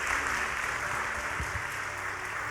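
Church congregation applauding during a Pentecostal-style sermon, a dense wash of clapping that is faint and fairly distant and stays steady throughout.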